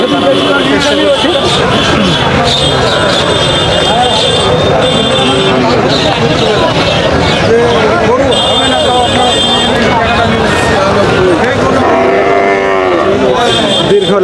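Cattle mooing at a busy calf and bull market in Bamundi, Bangladesh, repeated low moos from several animals amid constant crowd chatter and someone speaking close over the din.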